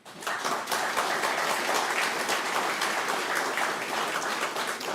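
An audience at a State of the Territory address in a legislative session breaks into dense, sustained applause. It starts abruptly and holds at an even level throughout.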